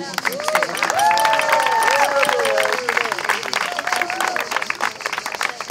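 Wedding guests clap and cheer at a reception at Fortin de Corbières, a dense burst of applause with scattered whoops and voices that swells early and then thins out.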